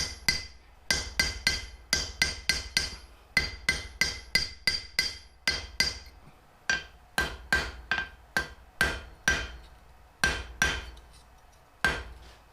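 Square bolts being hand-forged for rustic barn door hardware: a hammer strikes hot metal in quick ringing groups of two to four blows, pausing between sets, loud and close with bright metallic ring.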